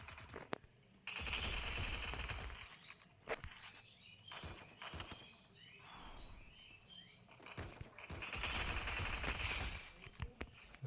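Automatic gunfire from a P90 and an SVD in the mobile shooter Free Fire Max, bursts of loud rapid shots in two long stretches with single cracks and game effects between them.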